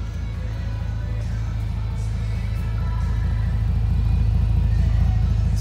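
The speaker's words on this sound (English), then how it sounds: "see if we can get a little bit of that exhaust note from the W12 engine" A deep, steady W12 engine rumble from a 2010 Bentley Continental Supersports, idling and swelling slightly louder toward the end, a rich low exhaust drone with no talking.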